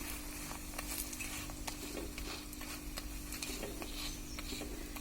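Laccha paratha frying in oil in a pan, a soft continuous sizzle with light scraping and ticking of a utensil, fairly quiet and steady, with a low hum underneath.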